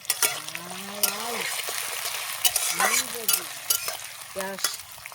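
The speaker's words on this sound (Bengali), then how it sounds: "পেঁয়াজটাকে লাল লাল করে ভেজে নেব" Onions frying in a pan with whole garam masala for a beef and potato curry, a bright sizzle with stirring scrapes, while someone talks over it in short phrases.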